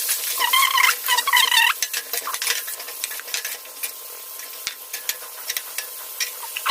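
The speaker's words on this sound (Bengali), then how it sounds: "ফুলকপিটা ভাজার জন্য প্রথমে আমি দিয়ে দেবো তেলের মধ্যে সামান্য একটু হলুদ ও ফুলকপিগুলো" Cauliflower florets fry in oil with turmeric and salt, a steady close sizzle with stirring scrapes, and a brief high whine near the start.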